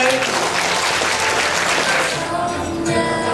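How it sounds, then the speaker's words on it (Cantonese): Applause for the groom's mother at a wedding, a steady dense round of clapping from a crowd that fills the whole stretch and eases slightly near the end. "俾啲掌聲佢。"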